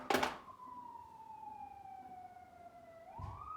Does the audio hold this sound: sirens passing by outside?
yes